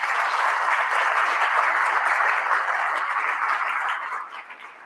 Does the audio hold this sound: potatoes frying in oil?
no